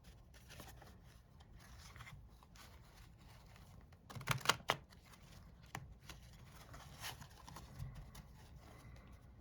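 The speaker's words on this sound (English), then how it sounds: "I just did kind of a manual mix-up before the shuffling of these." A deck of Minchiate Nere tarot cards by Marco Benedetti being shuffled by hand, faint soft riffles and slides with a louder flurry of card snaps in the middle, all fairly quiet and close.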